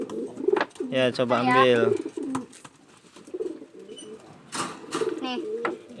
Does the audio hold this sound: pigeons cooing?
yes